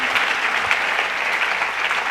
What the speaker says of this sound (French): Est-ce qu'on peut acclamer fortement le roi?